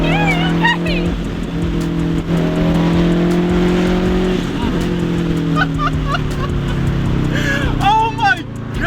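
A Subaru car engine modified to be as loud as possible drones and revs loudly close by, with rising and falling pitch under excited voices and shouting.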